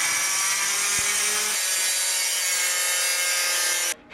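Metal bar pieces being cut down to fit a mount on an electric dirt bike build: a steady, loud rasping saw-like cut runs continuously for about four seconds, then stops abruptly near the end.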